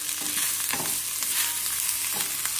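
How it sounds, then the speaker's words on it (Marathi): Chopped onion roasts in a small amount of oil in a kadhai, giving a continuous close sizzle with occasional stirring scrapes, steady and loud with no voices. "आता मस्तपैकी कांदा भाजून घ्यायचा, अगदी कमी तेलात करायचं।"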